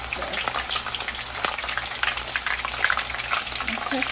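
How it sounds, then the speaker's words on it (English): Jalapeno peppers fry in hot chili oil with a dense, steady sizzle and crackle, loud and close, plus a few stirring scrapes, and no talking over it. "jalapeno peppers, okay? I'm gonna add some of those to the oil."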